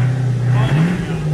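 A Buick race car fitted with a new Motion Raceworks exhaust revs briefly up close, its engine note climbing steadily over a moment with a low rumble underneath.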